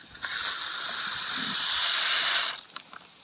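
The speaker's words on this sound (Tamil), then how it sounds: "தண்ணி நல்லா கொதிச்சிட்டு இப்போ நம்ம ரைஸ் ஆட் பண்ணிக்கலாம்." Basmati rice poured into a pot of boiling water on a stove, a steady bright hissing rush lasting about two seconds before cutting off, followed by a few small clinks.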